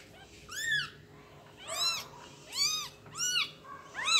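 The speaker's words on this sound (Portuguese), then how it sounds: "O que mais tem aqui nessa casa é gato, né?" Cats meowing indoors in a house with kittens: four or five high, rising-falling meows repeat about once a second, close and moderately loud, with no talk over them.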